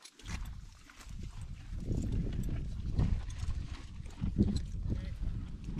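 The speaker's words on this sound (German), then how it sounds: "Unsere verschlammten Pferde" Mud-caked horses walking on a trek through the Bardenas desert, a soft continuous shuffle and clop of hooves with outdoor rumble and no speech.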